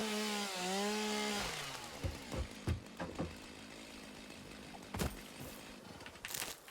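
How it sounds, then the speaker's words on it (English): A chainsaw in the video game Satisfactory revs with a droning whine for about a second, then gives way to scattered chopping and thudding knocks. "Get this chainsaw going."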